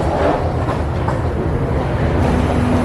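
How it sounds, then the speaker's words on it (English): Steady low rumble of a train idling at a quiet early-morning transit center, a dense continuous drone with faint hiss and no voices. "Our train's already waiting for us."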